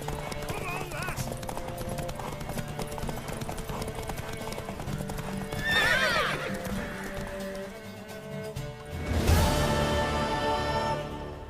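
Rhythmic hoofbeats of a horse at a gallop in The Witcher III: Wild Hunt, mixed with music and voices, and a horse whinnies partway through.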